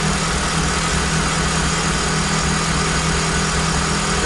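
Engine idles steadily while throttle bodies from a KTR Sport kit are balanced, giving a loud, constant drone with low vibration throughout and no talk.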